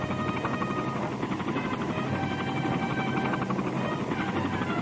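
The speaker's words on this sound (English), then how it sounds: "That's with another helicopter, like the Sea Knight." A CH-46 Sea Knight helicopter drones loudly and continuously, with a dense rotor thrum and engine whine, steady throughout with no other sounds.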